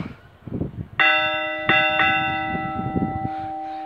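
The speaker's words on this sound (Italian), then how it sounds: "sentiamo ancora le campane di Macchia Goleman suonare a festa" A church bell in Macchiagodena, Italy, struck by its hammer, rings loudly twice in quick succession, its rich tone sustaining and slowly fading, with faint background noise beneath.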